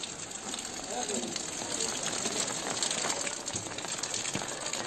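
Floodwater rushing through waterlogged city streets after heavy rain, a dense continuous gushing roar with no breaks, loud and close throughout.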